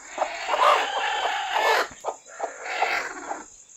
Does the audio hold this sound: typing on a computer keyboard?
no